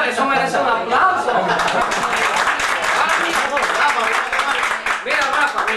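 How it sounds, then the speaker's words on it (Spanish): An audience at a stage show applauds throughout, mixed with lively crowd voices and some laughter, fairly loud and close. "merece un aplauso"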